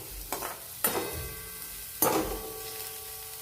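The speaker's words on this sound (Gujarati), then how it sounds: "કાંદો સરસ ગોલ્ડન બ્રાઉન થાય ત્યાં સુધી આપણે ચડવા દઈશું" A large chopped onion frying in a pan, with a steady soft sizzle broken by two sharp clanks of a spoon stirring against the pan.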